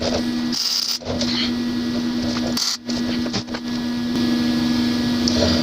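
Tack welding on a steel grill grate for a camp cooking kit: a steady electric buzz and crackle with a constant hum, broken by a few short pauses between tacks, loud and close with no talk.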